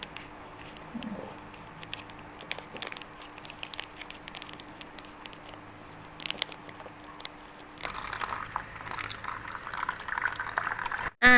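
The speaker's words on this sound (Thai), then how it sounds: "ซื้อมา1แพ็ค แพ็คละ99 บาท น่าจะเป็นหลายร้อยเมล็ดอยู่นะคะเนี่ย เราจะแช่น้ำกัน" Water is poured over globe amaranth seeds to soak them: a faint background at first, then a steady, close splashing fill in the last few seconds.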